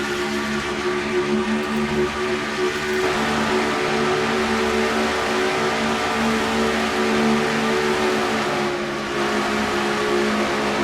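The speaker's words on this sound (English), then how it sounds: "That's the roof cam on the Valvoline Ford as they go through turns number 3 and 4 now." A Valvoline Ford race car engine drones at high, steady revs through the turns at Atlanta, loud and continuous with only slight shifts in pitch and no voices.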